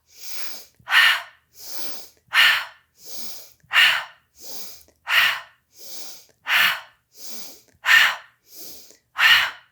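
Deep yoga breaths during a morning flow, a steady cycle of about a dozen rhythmic breaths alternating between softer and stronger airy pulses, close and clear with no talking.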